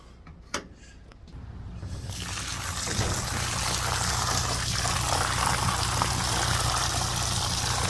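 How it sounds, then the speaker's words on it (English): A short clatter and a couple of knocks, then a heavy stream of green dirty water gushes out of a carpet cleaner tank and pours steadily, loud and continuous to the end. "So we're going to do a dirty water dump."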